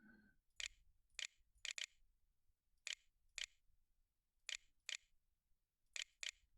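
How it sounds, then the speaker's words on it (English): Sharp, isolated clicks from typing on an on-screen keyboard arrive singly and in quick pairs at an uneven pace, close and fairly quiet against a near-silent room. "you can hear that clicking, but that's just me typing"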